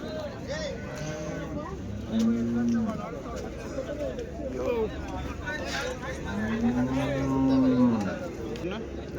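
Cows and calves at a Sunday cattle market in Chintamani, with two long, loud, close moos and a crowd murmuring and talking throughout.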